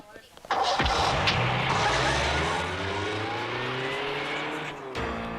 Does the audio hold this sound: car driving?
yes